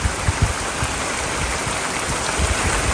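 Heavy rain falls on a garden where a small house is being built, a loud, dense, unbroken roar of water close by with a faint low rumble beneath and no talking.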